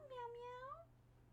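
A female cat meows once with a drawn-out, rising and falling cry, close and clear over a low steady hum, heard during a Nier Replicant gaming session.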